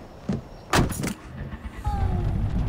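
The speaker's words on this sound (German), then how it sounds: "Dann fahren wir mal ein bisschen Auto." A car in the video game Far Cry 4 starts up, with a couple of door or mechanical clunks followed by a low engine rumble building steadily, close and moderately loud, without talking.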